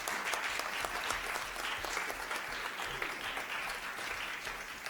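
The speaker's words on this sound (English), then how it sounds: "a round of applause for all of our debaters" A debate audience applauds the debaters with sustained, moderately distant clapping that holds an even level throughout, with a faint crowd murmur beneath it.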